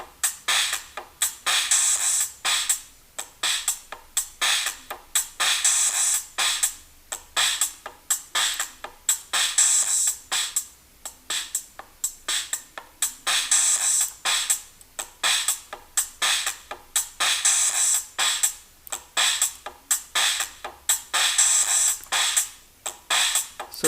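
Distortion effect from the Camel plugin in Adobe Audition, applied to a track that comes out as rapid, rhythmic bursts of bright, gritty, processed sound, pulsing on and off for nearly half a minute.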